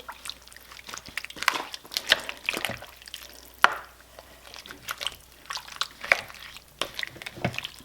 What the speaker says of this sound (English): Now I'm going to stir it around.